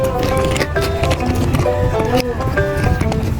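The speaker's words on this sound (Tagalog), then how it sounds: "May kabayo" Horse hooves clip-clop inside a huge indoor arena in Italy, with steady hoof beats mixed into a busy, echoing crowd din and people talking nearby.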